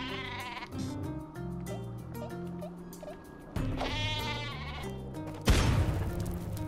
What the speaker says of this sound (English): These sheep are OP